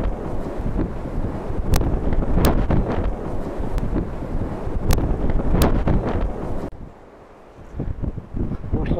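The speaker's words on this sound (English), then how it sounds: "you can see the wind blowing that water." Wind gusts over open water on a winter walk, buffeting the microphone with a heavy, continuous rumble that briefly eases near the end before rising again.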